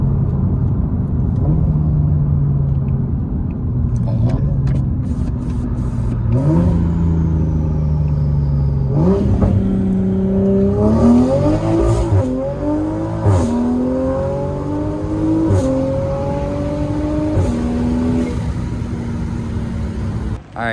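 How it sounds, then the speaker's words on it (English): A Toyota Supra mk5 makes a first-gear pull, the engine roaring loudly and climbing in pitch through several rising sweeps, with brief drops between, heard from close inside the car. "We're gonna do a 1st gear pull and see if that's the case."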